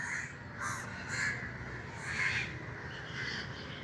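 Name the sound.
many crows cawing at evening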